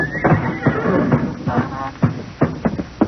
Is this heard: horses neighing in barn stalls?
yes